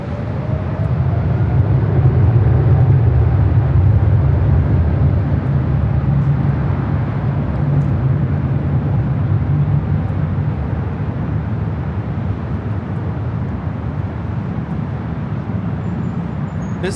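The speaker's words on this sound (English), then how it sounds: "taking off to Paris on the 777-300ER" An Air France Boeing 777-300ER takes off from runway 24 left at LAX for Paris, producing a loud, sustained low engine roar that stays steady and broad through the whole stretch, without talk.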